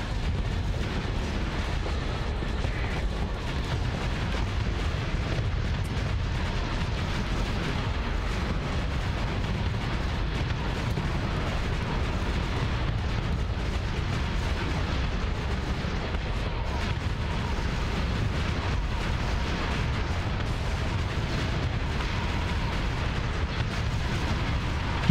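Starship weapons firing and explosions in Starsector space combat near a station, a dense continuous rumble of booms and distant blasts blending into a steady roar, with no clear breaks and no talk.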